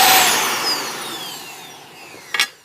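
A Dyson vacuum cleaner motor with its post-motor filter removed whines loudly at first, its pitch falling as it spins down, ending with a brief burst of noise.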